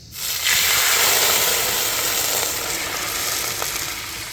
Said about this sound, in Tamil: தண்ணி ஊற்றிக்கிறோம்